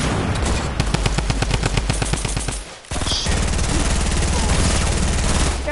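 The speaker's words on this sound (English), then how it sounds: "He's shooting at me." Rapid automatic gunfire rattles in a PS4 shooter game, loud and close, with a fast burst, a short break, then a longer sustained stream of shots.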